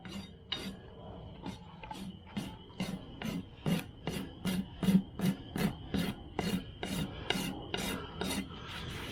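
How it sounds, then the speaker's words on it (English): The rough side of a file rasps across a horse's hoof during barefoot trimming, making a quick series of close, scratchy strokes in an uneven rhythm. "I'm going to use the rough side of my file"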